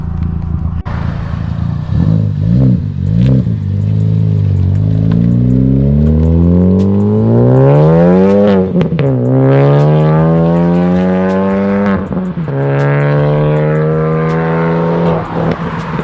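A Ford Focus ST with an aftermarket exhaust accelerates loudly through several gears, its tone rising and dropping at each shift, with crackling pops between pulls and no talking.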